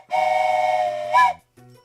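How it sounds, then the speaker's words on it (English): A steady steam-style train whistle sounds alone as a sound effect in an OpenTTD railway game session, holding one clear tone for about a second before rising into a brief louder burst, then a softer low echo. "And we need a train whistle."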